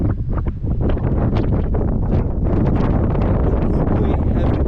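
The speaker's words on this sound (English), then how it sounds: "this wind's getting a bit hectic" Strong gusting wind buffets the microphone outdoors in Mapungubwe, a loud, continuous roaring rumble with no letup that swamps everything else.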